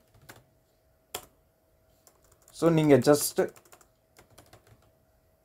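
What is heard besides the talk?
typing on a computer keyboard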